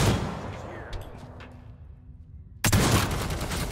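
Sniper shotgun fired in Necromunda: Hired Gun, a single sharp blast cracking in near the end after a few fading echoes from earlier shots.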